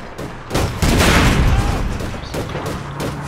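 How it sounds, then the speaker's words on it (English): Rapid gunfire from a fight in the online shooter APB Reloaded, with loud bursts and booms overlapping in a dense, sustained volley that stays busy throughout. "Dude, you've got to stop shooting me."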